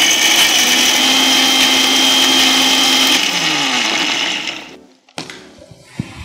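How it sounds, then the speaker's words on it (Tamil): A Prestige Delight Pro mixer grinder grinding masala for prawn ghee roast, a loud continuous motor whir that runs for about four seconds and then winds down, followed by a few clunks. "இன்றைக்கி வந்து நான் prestige delight bro mixie grinder use பண்ணிகிட்ருக்கேன்."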